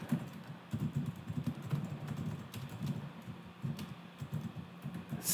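Typing on a computer keyboard while entering a terminal command, a steady run of close, quiet key clicks and taps with no talk.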